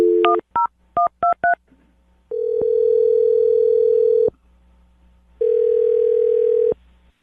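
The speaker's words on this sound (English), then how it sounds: "I'm dialing her phone number right now." A telephone being dialled: a quick run of about six touch-tone beeps, then a steady ringback tone sounding twice with a pause between, clear and close with no talk.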